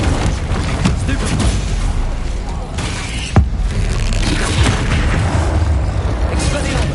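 A Confringo blasting spell explodes in Hogwarts Legacy on PS5: one sharp boom near the middle, cutting through a dense, steady wash of rumbling battle noise.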